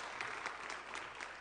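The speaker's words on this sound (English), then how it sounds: "Big round of applause for these two wonderful" Brief burst of applause at a Sunday church worship service, steady dense clapping from the congregation filling the room at moderate level, with a few louder individual claps standing out.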